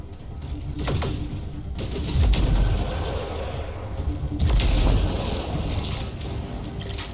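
Gunfire in Mass Effect: Andromeda, a few sharp shots and heavier blasts over a rumbling combat background, loud and fairly close, with no talking.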